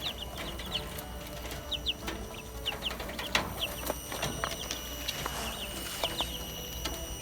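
Many duck chicks peep in quick, high chirps scattered throughout, with soft pecking and rustling underneath, fairly close and continuous.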